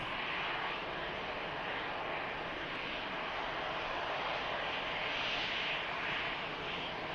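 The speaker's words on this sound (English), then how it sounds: "EasyJet arriving in from Amsterdam." An EasyJet passenger jet arriving at Manchester Airport from Amsterdam, a broad, distant roar of jet engines that swells and rumbles steadily, with no talk.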